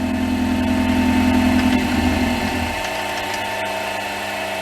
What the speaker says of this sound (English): This mill's much quieter now. It's converted to belt drive.